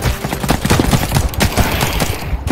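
Dense, rapid gunfire rattles through a firefight in the video game The Cycle: Frontier, overlapping bursts and shots crackling loud and close for the whole stretch with no talking.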